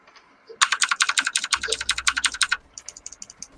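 Keys jingle in quick repeated metallic clinks for about two seconds at a lunchroom table, then trail off into lighter, fainter rattles.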